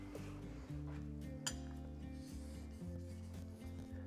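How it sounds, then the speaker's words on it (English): A Japanese plane blade is lapped on a kanaban plate, a steady close metallic rubbing and grinding with low tonal scraping strokes and a single sharp clink. "I'm just gonna keep lapping this for a minute or two."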